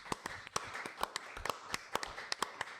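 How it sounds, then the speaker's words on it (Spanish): Faint applause for a speaker at a political talk show, heard as a thin run of regular claps from a few hands, quiet and spaced at an even beat. "Un aplauso, pues. Para él."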